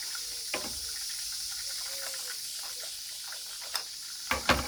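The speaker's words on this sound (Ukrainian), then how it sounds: "Пройшло 10 хвилин і ми чуємо, що казан закипів." Steady hissing sizzle of hot oil bubbling in a large kazan cauldron, with scattered crackles and a few sharper pops near the end.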